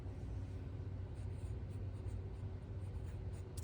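A fountain pen with a smooth medium nib scratches steadily across paper, a soft continuous scritch close up over a low background rumble.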